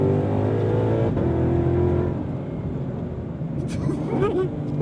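Supercharged V8 in a Ford Mustang GTD pulling hard after a downshift, a loud, steady engine drone with rising harmonics heard from the cabin, followed by a brief change in tone near the end.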